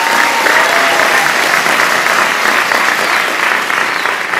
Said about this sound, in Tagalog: Kayo inyong palakpakan, ang palakpak ninyo na nagpapatunay, nakapanig kayo sa kanyang katwiran.